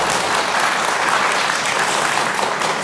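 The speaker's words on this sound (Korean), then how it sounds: "교육감님을 또 응원하는 의미에서 박수 한번 보내주시면 좋겠습니다." An audience at a regional education broadcast event gives a continuous round of applause for the education superintendent, bright, dense clapping that stays loud throughout.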